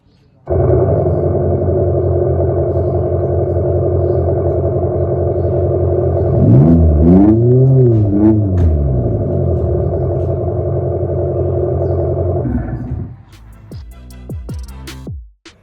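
A steady synthetic engine-like drone from an Abarth 500e electric car's external sound function, holding a low harmonic hum with a brief rising-and-falling swell in the middle, then cutting off.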